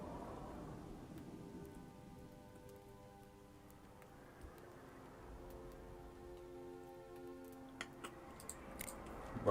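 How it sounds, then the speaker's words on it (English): Quiet rain patters under a low rumble of thunder during a competitive online video game match, with a faint musical tone and scattered sharp ticks and clicks rising near the end, and no one speaking. "MLG has installed a rainstorm"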